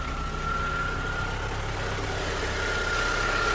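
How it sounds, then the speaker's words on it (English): A car's electric radiator cooling fan runs with the air conditioning switched on while the engine idles steadily, producing a constant whirring hum over a low engine drone, near and even, with no talking. "The fan just picked and started running."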